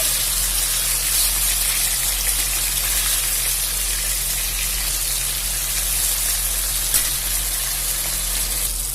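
Fish rubbed with salt and turmeric frying in mustard oil in a kadai, giving a loud, steady, close sizzle like pouring rain with a low hum underneath, continuous and without talking.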